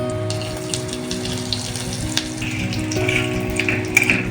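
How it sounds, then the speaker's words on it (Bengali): Whole cumin, dried red chilli, bay leaf and asafoetida sizzle steadily in hot oil for a vegetarian Bengali potato-and-banana-flower dish, a close, continuous crackling fry with small pops, no voices. "তেল গরম হয়ে গেছে, দিয়ে দেবো জিরে, একটা শুকনো লঙ্কা একটু ফাটিয়ে দিই, দুটো গোটা দিয়ে দেবো, তেজপাতা"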